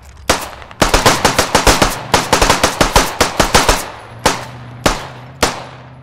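Pistol fire in the video game Squad: a rapid, even string of roughly twenty sharp, loud shots, then three slower single shots spaced about half a second apart, with no talking.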